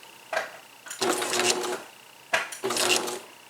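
A sewing machine stitches through paper journal pages, running in two short bursts of rapid mechanical chatter separated by a brief pause, fairly quiet and close, with no voices.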